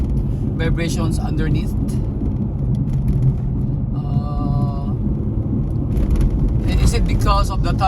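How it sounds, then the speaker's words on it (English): A truck on new thick-tread tires rolls downhill with a steady low road rumble and tire vibration. Loud cabin noise runs throughout, with people talking over it. "because of the tire is new and thick treads, maybe this caused the vibrations or the noise"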